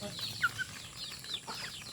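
Chickens, including a hatchling and a native hen, cluck softly in a short farmyard stretch, with a few brief bursts over a busy background.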